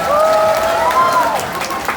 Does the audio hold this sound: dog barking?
no